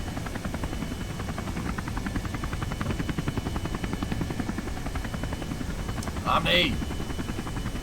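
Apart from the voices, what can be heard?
rocket engine throttling up in Kerbal Space Program video game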